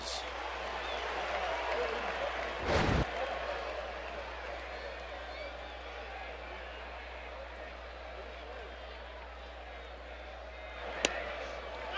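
A baseball crowd at a Red Sox–Braves game in Atlanta cheers for David Ortiz: a broad, sustained roar of many voices filling a stadium, with a sharp thump near the start and a brief spike near the end.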